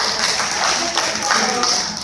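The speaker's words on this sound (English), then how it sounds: "Everybody give him a round of applause" Audience at a seminar on essential oils claps, a short, even patter of applause at close range with a faint voice underneath.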